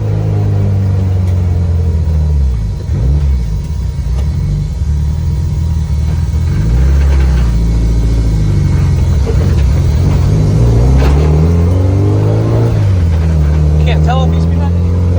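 Gutted, caged widebody Subaru Impreza on the move, the engine droning and rising and falling through revs with a slight stumbling breakup, loud inside the cabin while people talk over it.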